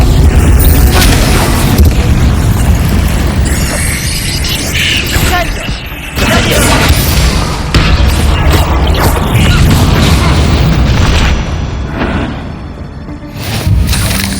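The Bombarda explosion spell in Hogwarts Legacy sounds amid loud, dense spell combat, heavy booming blasts and crashing impacts piling up continuously over roughly fourteen seconds.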